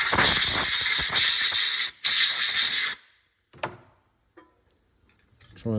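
Compressed air blasting through a Jaguar XKR engine cylinder head during a head gasket job, a loud hissing rush for about three seconds with a brief break, then short faint puffs and clicks.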